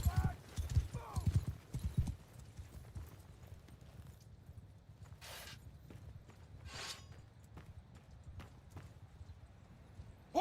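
Horse hooves of mounted archers moving in a Mount and Blade 2 battle, a rapid clip-clop of many hooves strongest at the start, then a softer, continuing trot, with shouted voices in between.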